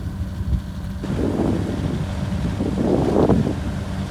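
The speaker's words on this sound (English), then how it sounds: "Motor sailing here, trying to get through this passage." Sailboat motor sailing single-handed through a busy passage in the Strait of Juan de Fuca in winter, a steady low engine drone beneath constant wind rush and water noise, swelling louder in two broad surges.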